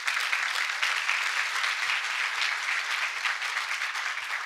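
Sustained audience applause at a conference talk, dense steady clapping from a large crowd throughout, fairly far off and even in loudness with no voices.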